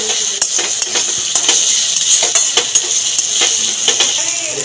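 Onions fry with garlic paste in a pan, a steady sizzle under repeated clinks and scrapes of a spoon as the mixture is stirred, close and fairly loud.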